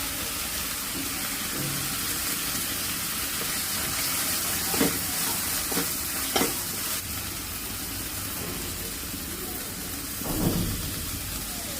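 Ground cashew paste sizzles in a pan with tomato puree for a green plantain kofta curry, a steady close-up hiss broken by a few scraping stirs of a spatula, with no voices.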